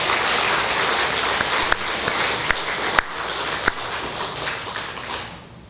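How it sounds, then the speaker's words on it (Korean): A church congregation gives sustained applause for volunteers who serve by driving, a thick wash of many hands clapping that fades gradually toward the end, with a few sharper individual claps standing out. "우리 차량 봉사하신 분 등등을 위해서 또 박수 한번 쳐드리는 게 어떻겠습니까?"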